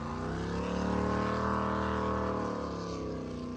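Mod V racing powerboat engine running steadily at a close, loud idle, a continuous harmonic drone during a St. Clair River classic boat race event.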